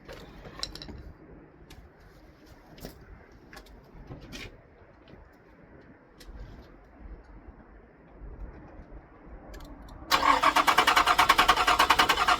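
A car engine cranks during a fuel-delivery check. Faint mechanical ticks and clicks come first, then a loud, steady starter whir cuts in for the last couple of seconds. Birds are faintly audible.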